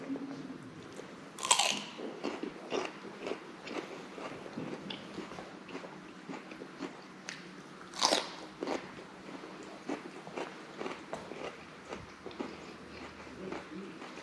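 Crunchy celery with peanut butter being bitten and chewed up close, with two sharp loud crunching bites and steady wet chewing and crackling between them.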